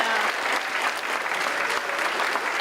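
Steady applause from an audience at a high school guest speaker event, dense and continuous clapping from a crowd throughout, fairly close and even in level with no talk over it.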